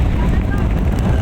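Strong typhoon wind roars across the microphone at Manila Bay's Dolomite Beach, a dense, steady low rumble filling the whole moment, loud and close, with faint voices underneath.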